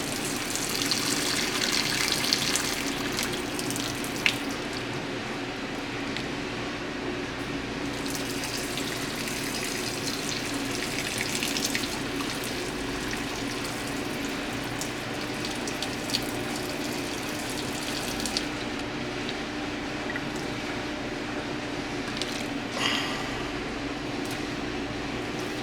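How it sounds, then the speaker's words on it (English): Boiled potato cooking water poured out into a kitchen sink, a steady rushing gush of running water that continues close and fairly loud for the whole stretch without speech. "Drain whatever in the sink."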